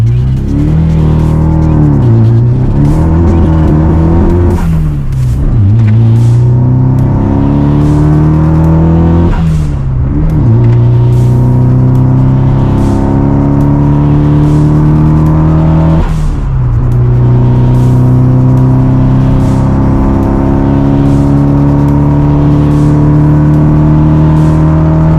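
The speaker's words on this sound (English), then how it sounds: "we're going to go all the way up to fifth on this run" A car fitted with a short-throw shifter accelerates hard through the gears up to fifth. The loud, close engine note climbs steadily and drops briefly at each of several shifts, with no talking.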